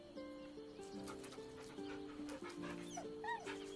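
Dog in the video game Baldur's Gate 3, wagging his tail with a small bag held in his teeth, letting out a few soft whines and whimpers over a quiet game ambience, no talk.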